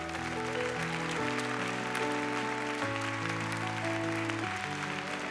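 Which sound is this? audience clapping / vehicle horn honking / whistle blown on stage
audience clapping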